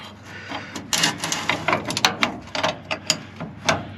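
A wrench ratchets in quick irregular clicking bursts while working on the fuel filter of a 1996–1998 Chevrolet C1500 pickup, close and crisp with no talk.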